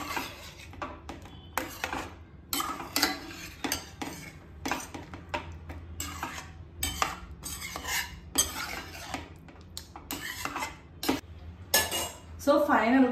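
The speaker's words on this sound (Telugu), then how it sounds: "ఫ్రెష్ క్రీమ్ కూడా వేసుకున్నాక ఇంకొకసారి కలుపుకోవడమే." A spoon stirs dum aloo made with baby potatoes and fresh cream in a pan, giving repeated clinks and scrapes of metal against the pan in irregular bursts, with a voice talking now and then.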